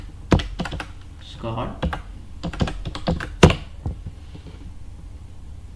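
Someone types a password on a computer keyboard before logging into SQL, a series of sharp, close key clicks in uneven bursts, with a brief spoken word among them.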